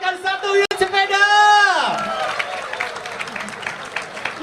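Applause from an audience at an Indonesian Independence Day ceremony in Nusantara rises after a sustained tone fades, then continues as a dense, steady wash of clapping mixed with crowd noise.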